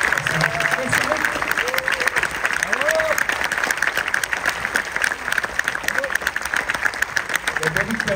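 An audience at a French film screening in Saint-Jean-de-Luz applauds the film's team, with steady dense clapping throughout under loud talk and cheering voices.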